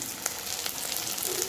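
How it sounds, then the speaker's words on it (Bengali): Onion fries in hot oil in a pan after dried chillies; a soft, steady sizzle with fine crackling pops, fairly faint and without talk. "এখন পেঁয়াজটা ভেজে নেব।"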